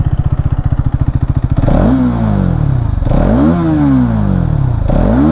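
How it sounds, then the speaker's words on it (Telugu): A Hero Xtreme 250R motorcycle exhaust sounds up close, first with a rapid, even idle putter. It then breaks into loud throttle blips that rise and fall, with a short pause between the revs. "ఒకసారి ఎగ్జాస్ట్ సౌండ్ వినండి."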